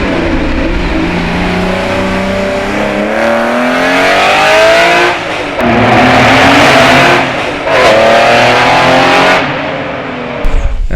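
A Porsche 911 996 Carrera with an X-pipe and VVD sport silencers over OEM mufflers, revved hard and close in several rising sweeps separated by brief dips, loud and alone.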